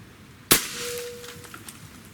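A single sharp, loud report from a powerful AEA Tactical Zeus airgun fitted with a suppressor, followed by a brief thin ringing tone and a faint clatter fading into quiet.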